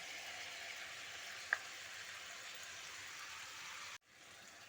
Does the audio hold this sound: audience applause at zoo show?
no